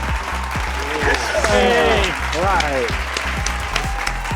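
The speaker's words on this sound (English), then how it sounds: "Extra applause." Scattered applause from a virtual graduation ceremony rises and falls beneath prominent voices talking over it.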